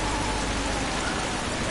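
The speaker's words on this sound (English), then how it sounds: "This rain is torrential." Heavy, torrential rain roars steadily in a racing video game during a league race at Zolder, a dense continuous wash of drops with no voices over it.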